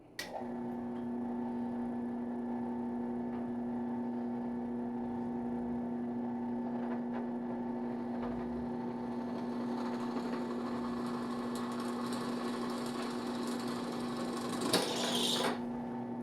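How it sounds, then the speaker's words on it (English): A steady mechanical drilling whine runs continuously at close range as holes are drilled in a metal multitool blade, with a brief louder grinding burst near the end. "Next we'll drill a couple more holes and enlarge it."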